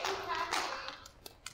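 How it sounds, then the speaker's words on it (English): A short burst of clapping from a few people at a convention panel, fading quickly into a couple of scattered final claps, with a voice faintly mixed in. "A round of applause for Ray, everybody."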